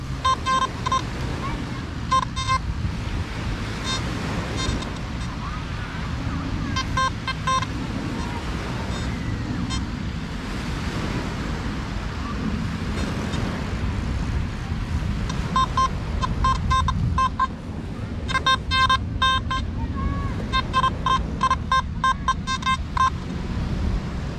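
Metal detector sweeping over ground, giving repeated loud, clear beeping signal tones in bursts over wind and handling noise, with someone talking at intervals.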